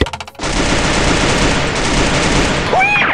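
Rapid automatic gunfire in the Free Fire video game, a dense unbroken burst of shots that starts after a brief stutter and stays loud and close throughout.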